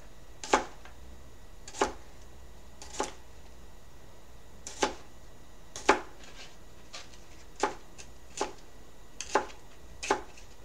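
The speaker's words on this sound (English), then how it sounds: "I'm going to cut my garlic, which again came peeled" A knife cuts through peeled garlic cloves on a board, making about a dozen crisp, close, quiet taps at an irregular, unhurried pace, with near silence between strokes.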